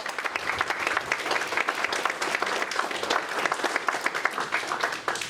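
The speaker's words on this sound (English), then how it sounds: "let's give a big round of applause to Eli Rubin" Warm, continuous applause from an audience welcoming a speaker to a Medicare for All talk, dense and even, close and steady throughout.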